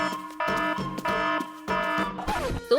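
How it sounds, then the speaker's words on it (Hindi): A loud electronic alarm rings in repeated tonal bursts, close and insistent, ending with a warbling sweep. "ये क्या है? अलार्म बंद करो।"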